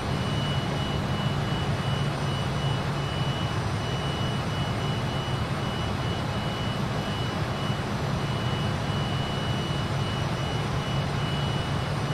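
The Fokker 28 airliner's engines drone steadily in a flight simulator game, a loud, even jet roar with a faint whine running underneath, unbroken throughout and with no speech.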